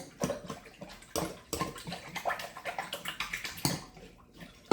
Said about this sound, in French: on retire de la balance et on fouette jusqu'à ce que le tout soit très homogène